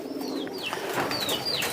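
A pigeon coos softly in a short, close call of a few rising and falling notes.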